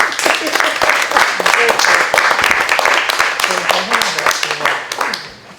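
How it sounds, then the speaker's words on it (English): An audience claps in loud, irregular bursts, with voices and cheering mixed through the crowd noise before it fades at the end. "I want to clap"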